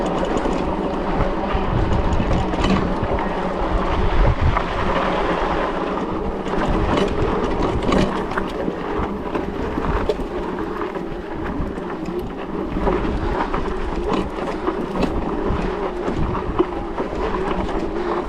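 Electric full-suspension mountain bike with a 1000 W motor climbing a hill in gear 2, giving a steady broadband rumble and wind noise throughout at constant loudness, with no talk.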